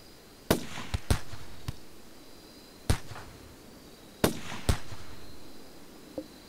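Gunfire from a sniper rifle and a pistol in RimWorld: a handful of sharp, separate shots spaced irregularly over several seconds, fairly loud against a quiet background.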